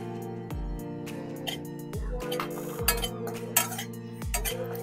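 Rice flour frying in a hot kadai for a coconut-palm patishapta filling, with a metal spoon scraping and clinking against the pan in repeated strokes every second or so over a steady background hum, close and moderately loud.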